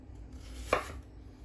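A single knife cut through a potato, one crisp chop against a board that stands out briefly above a quiet kitchen background.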